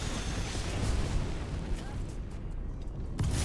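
Gunfire in Apex Legends during a ranked match, a dense continuous barrage of shots and booms that stays loud throughout with no clear gaps.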